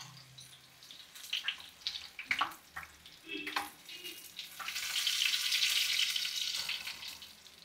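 Coriander bajji fry in hot oil, a faint bubbling sizzle with scattered clinks and scrapes that swells into a fuller, steadier hiss in the second half.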